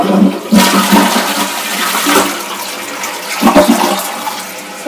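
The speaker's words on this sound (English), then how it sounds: "I forgot to flush it." A toilet flushes at home in a loud close rush of swirling water that holds steady for several seconds and swells again near the end.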